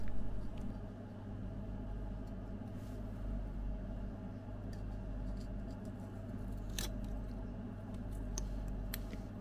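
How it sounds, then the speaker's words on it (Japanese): Scissors snip excess aluminium tape on a 1/32 scale model car, giving a few sharp, close clicks scattered over a quiet, humming room. "余った部分はハサミでカット。"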